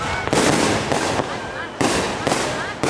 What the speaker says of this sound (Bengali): রাতে আয়োজন হয় আতশবাজির